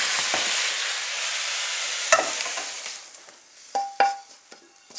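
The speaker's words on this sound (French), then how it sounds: "On mélange, on brasse bien la pâte." Banh xeo crêpe batter being stirred and mixed in a bowl, a steady broadband swishing with a few sharp clinks of utensil against the bowl near the end, close and moderately loud with no talking.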